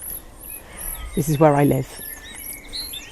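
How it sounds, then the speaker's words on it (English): Birds tweet faintly in the Somerset countryside on a fine day, scattered high chirps running through the background while someone speaks briefly in the foreground. "You can hear the birds tweeting in the background."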